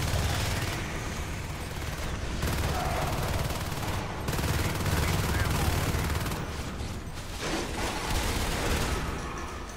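Dense, continuous gunfire and explosive bursts from a Marines-versus-aliens video game match fill the whole stretch, loud and chaotic with rapid overlapping shots and occasional heavier booms.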